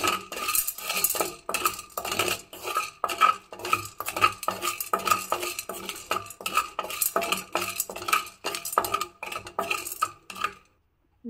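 Sugar-coated seeds mixed with orange colouring are stirred in a pan, giving a rapid, steady run of metallic scraping and clinking from a spoon on the pan. The sound is loud and close, without pause, and stops abruptly at the end.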